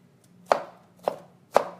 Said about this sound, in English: So then I'm going to cut, depending on how you want it cut, I just julienne it just like this.